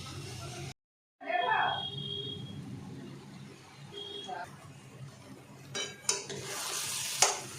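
Taro leaves being stirred and dried out in a frying pan for a kochu shak ghonto, with soft scraping and a faint fry, a short silent gap, then louder utensil clatter toward the end.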